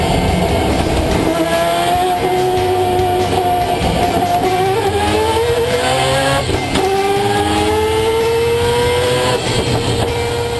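A 10,500-horsepower car plays back from a recording, its engine revving up through rising gear pulls with repeated upward sweeps of loud, sustained roar.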